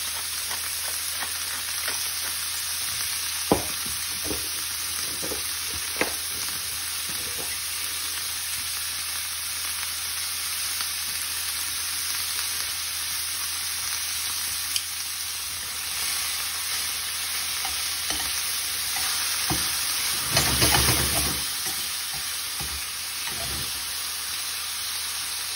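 Seasoned beef searing in a hot frying pan, a steady loud sizzle with occasional pops and spatters, growing briefly fiercer near the end as the meat is moved or stirred.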